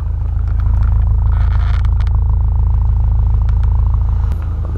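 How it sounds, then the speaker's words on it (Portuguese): Volkswagen Polo exhaust giving a deep, steady, loud rumble at close range, a continuous low drone with no talking over it. "Olha o escapizão."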